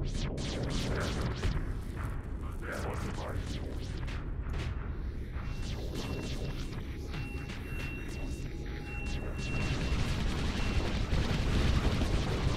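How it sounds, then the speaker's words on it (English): Ship guns in the space combat game StarSector fire salvos of rapid overlapping booms and bursts over a constant roaring battle din, with faint high electronic beeps in the background. "That salvo is deadly."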